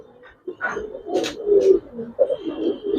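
A home-flown pigeon at a Bangladeshi bird market coos in low, rolling bursts up close. Brief dull knocks and a faint distant bark sound behind it.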